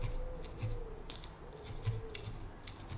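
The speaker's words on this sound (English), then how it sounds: "I'm going to take my embroidery scissors, and I'm going to cut away those excess pieces" Embroidery scissors snip away excess felting wool from a needle-felted fox, giving a series of crisp, close cuts in an uneven rhythm over a quiet background.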